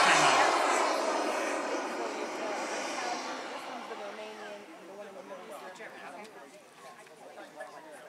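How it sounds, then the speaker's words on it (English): Hovering jet model airplane at the BAMS 2014 event, its engine exhaust a loud whooshing roar that slowly fades to a fainter hiss while people talk nearby. "jet exhaust coming out of there, several hundred miles an hour, and it's keeping that airplane floating on"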